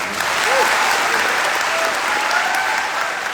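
Audience at a Vestige training seminar breaks into dense, steady applause that holds at an even, fairly loud level throughout without any pause.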